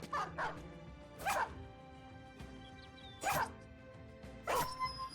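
Dog barks in the Battle Brothers video game, four separate loud bursts spaced a second or two apart over a steady low game backdrop with tonal music lines.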